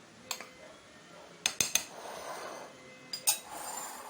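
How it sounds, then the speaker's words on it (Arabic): Flour, baking soda and other dry ingredients stirred together in a bowl, heard as a few sharp clinks of a utensil against the dish between soft scraping, close and quiet. "هقلب الحاجات دي كلها ببعضيها"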